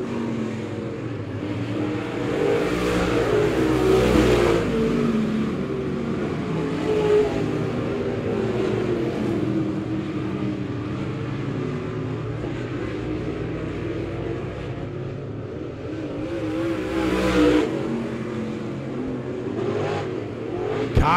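Race car roaring down the front stretch at Monett Raceway during a dirt-track night, engine loud and sustained with revving swells, other cars droning behind it.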